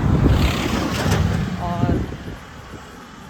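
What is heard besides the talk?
wind blowing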